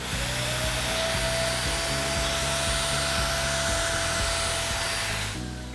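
Forbes Trendy Zip vacuum cleaner running on a sofa with an upholstery attachment, a loud steady close whine and roar with a faint rising tone, cutting off near the end.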